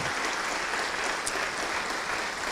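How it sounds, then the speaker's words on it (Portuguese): Applause from a church congregation during a worship service, steady and dense throughout, filling the space with continuous clapping and no voices standing out. "Vamos aplaudir ao Senhor Jesus."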